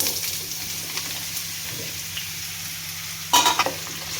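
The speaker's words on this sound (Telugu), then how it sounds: "సొరకాయ ముక్కలు వేసిన తర్వాత ఇదంతా బాగా కలుపుకోవాలి" Bottle gourd pieces frying in a pan with a steady sizzle, stirred with a few scraping clanks of a spoon near the end, close and clear.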